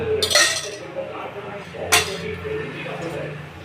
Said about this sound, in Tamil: ஒரு ஆம்லெட் போடுங்க அப்படின்னா இப்படி தான் எடுத்து கலக்குவாங்க